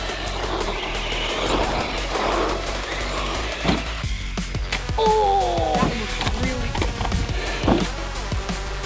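A PD Racing TK-16 RC truck with faulty electronics drives over dirt, its electric motor whining steadily under gravel crunches and knocks, with a brief rising squeal midway, and no talking.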